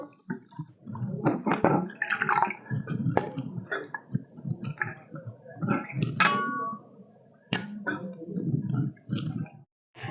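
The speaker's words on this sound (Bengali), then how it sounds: "পালং শাকটা কাটা হয়ে গেছে এবার আমি ভালোভাবে জলে ধুয়ে নিচ্ছি" Chopped spinach is swished and rinsed in water by hand, giving busy splashing, dripping and clicking against a bowl in uneven bursts that run almost the whole time, close and fairly loud, with brief pauses.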